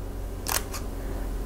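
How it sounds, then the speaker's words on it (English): A Leica T camera shutter fires twice in quick succession, two short, soft, muted clicks close up with faint room tone and no talking. "The shutter sound is kind of muted sounding, kind of quiet, feels very high quality."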